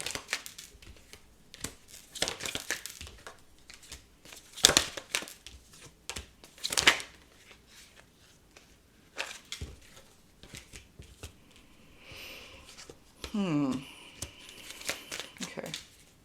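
A deck of tarot cards is shuffled in irregular bursts of papery riffling and flicking, with scattered sharp snaps and quiet gaps between, close and fairly faint.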